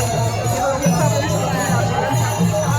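Large crowd gathered for a pilgrimage procession (wari to Pandharpur) in Sinnar, a steady dense murmur of many voices close around, continuous babble with no single voice standing out.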